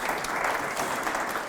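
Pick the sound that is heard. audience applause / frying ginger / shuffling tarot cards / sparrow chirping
audience applause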